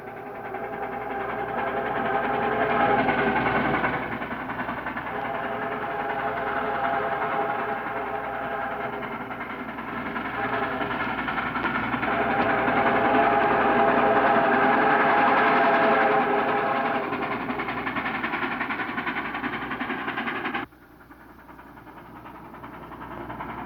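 A commuter train rumbles steadily at Fanwood, New Jersey, with a continuous engine and rail drone that swells through the middle, then cuts to a quieter, thinner level near the end; no voices are heard.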